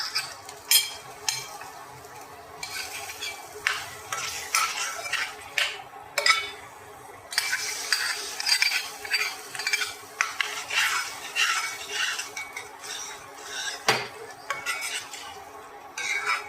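Kashmiri chili stirred into a spoonful of hot oil in a pan, with frequent scraping and clinking of a spoon against the metal over a light sizzle, close and busy throughout.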